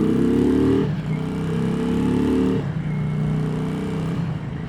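A 1995 Yamaha XV535 Virago V-twin motorcycle on the move, its close, loud engine drone rising through the revs, dipping at gear changes and pulling again, with wind noise over it.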